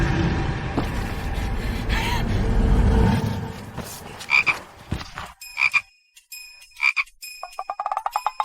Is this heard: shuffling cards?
no